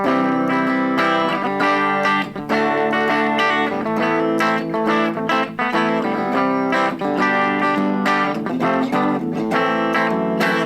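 Loud, heavily distorted electric guitar through a Lekato AG04 portable amp, playing continuously with a gritty, clipped tone and steady strummed chords throughout.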